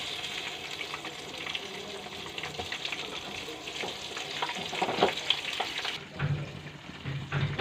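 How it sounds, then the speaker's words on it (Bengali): Pointed gourd (potol) frying in hot oil in a kadai, a steady broadband crackle running throughout with occasional stirring clinks, then the sizzle dips and shifts briefly near the end as pieces are lifted out. "বন্ধুরা পটলগুলো এইভাবে ভেজে নিতে হবে"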